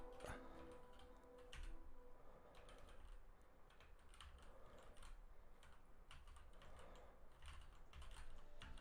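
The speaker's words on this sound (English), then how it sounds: "So let's like try typing." Keystrokes from a mechanical keyboard typed in a lying-down position, a steady run of clicky taps with uneven rhythm, some strokes apparently missing, close and fairly quiet over a low background hum.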